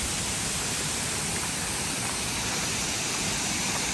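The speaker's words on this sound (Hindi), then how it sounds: "और ये कुछ ऐसा भाई छोटा सा वाटरफॉल है," A small waterfall at Vattai Waterfalls in Kerala pours steadily, making a dense, continuous rushing hiss of falling water that stays close and even throughout with no voices.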